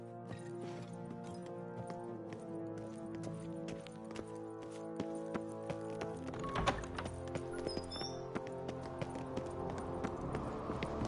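Rhythmic hoof clip-clops of a galloping horse in The Witcher 3: Wild Hunt continue over an ongoing musical backdrop, close and steady, with no talking.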